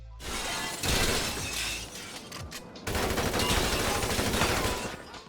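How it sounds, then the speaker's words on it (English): Gunfire shattering the glass walls of a payphone booth in a GTA video game, sustained bursts of shots mixed with crackling, breaking glass, loud and close, with a brief lull before the firing resumes. "The booth has glass walls that show detailed destruction upon impact."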